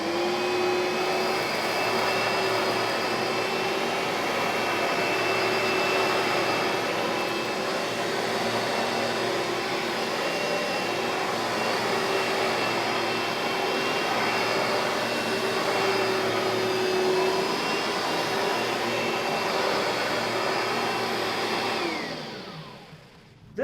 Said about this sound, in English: So let's do some vacuuming.